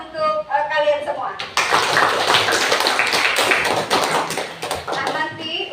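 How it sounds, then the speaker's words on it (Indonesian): Classroom students clap together in a dense, sustained burst after a teacher's voice, the applause filling most of the stretch and tapering near the end. "Coba kita tepuk tangan untuk kalian semua."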